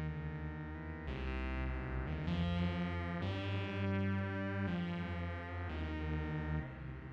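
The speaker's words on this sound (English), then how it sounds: "Let's hear it now with some flanging." A synth or instrument line is run through a flanger effects unit, sustained chords sweeping with a swirling, comb-like shimmer over about seven seconds, alone without talk.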